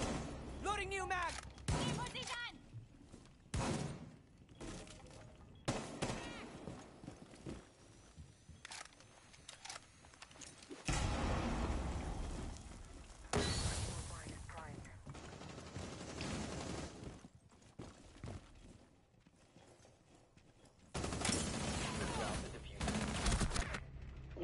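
Gunfire from the shooter game Stiege comes in repeated rapid bursts, some loud and near, others quieter, separated by brief lulls, with voices at times.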